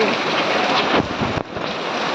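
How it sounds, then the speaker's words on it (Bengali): Rain falls as a loud, dense, continuous hiss, with a couple of brief louder rustles near the middle. "গাইস, বৃষ্টি পড়ছে, বৃষ্টি।"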